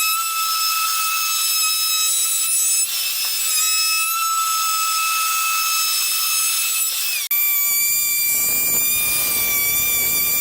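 Power router rounding over the edges of a plywood coffee table, a loud continuous high-pitched whine with steady tonal harmonics, briefly shifting pitch partway through as the cut continues.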